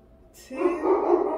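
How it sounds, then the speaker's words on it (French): A dog barks and yelps in the back of a car, a burst of loud, close barking that starts after a short quiet moment and keeps going. "Et l'autre, elle aboie à l'arrière comme une malade."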